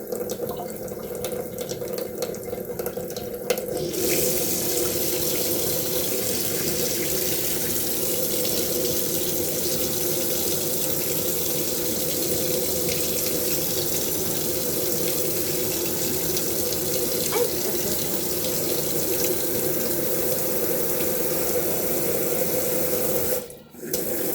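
Water runs steadily from a shower-like tap head that gets moved about, a continuous broadband hiss lasting throughout with a brief break near the end, and a voice speaks faintly over it.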